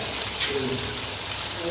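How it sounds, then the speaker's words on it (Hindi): A glass of water is poured into a hot karahi of green chicken, giving a brief, close, hissing sizzle and splash that settles into a steady bubbling fizz. "अब हम इसके अंदर 1 गिलास पानी डाल कर देंगे।"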